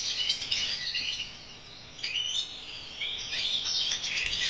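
Many aviary birds chirp and sing together in a dense, continuous chorus of high tweets and trills, fairly close and lively throughout.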